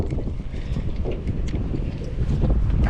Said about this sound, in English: This wind don't die down.